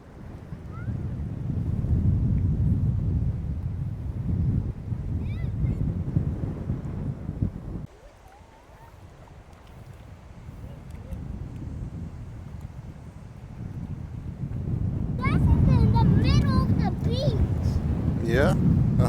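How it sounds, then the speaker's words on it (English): Low, blustery wind buffeting the microphone, rumbling strongly, easing briefly midway and then gusting again, while people talk and shout nearby. "It's windy out here today."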